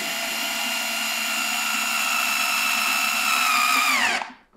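A power drill tightens a screw on a SNOO baby bassinet, running as a steady high whine for about four seconds before winding down and stopping, close and loud with nothing else heard.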